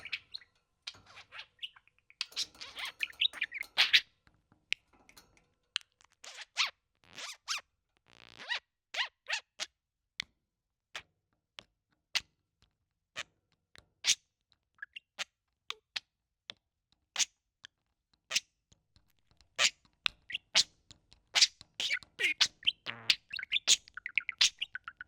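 Budgie chirping in a run of quick, bright tweets and clicks, busy at first, then sparser and more evenly spaced, then dense again toward the end. The bird is close and moderately loud, with no talk.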